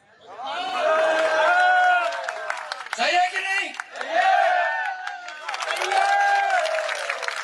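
Crowd at a political election rally in Dabra claps and cheers in a rough, steady wash beneath a man's loud amplified speech, the noise swelling and thinning as he talks.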